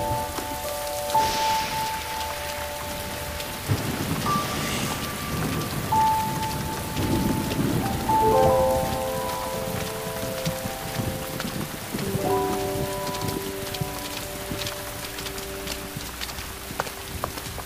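Heavy thunderstorm rain pours steadily across a surface while low thunder rumbles beneath, with sustained musical tones drifting over the downpour and no speech.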